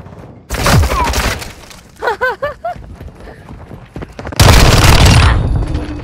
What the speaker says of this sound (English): He was shooting at me